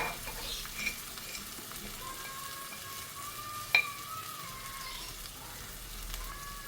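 Chili powder sizzling in hot oil for a white pomfret curry, a quiet continuous crackle with a sharp tap of a utensil partway through, no voices.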